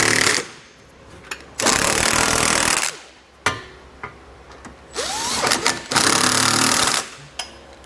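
A power wrench with a 3/4 inch socket snugs trailer hitch bolts on a 2022 Jeep Cherokee, running in several loud, close bursts of roughly a second each with short pauses between them.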